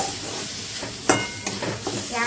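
Salted mashed-vegetable mixture for Maharashtrian vangyache bharit being stirred in a pan, a soft continuous sizzle with scraping stir strokes and a couple of sharper clatters, close and steady.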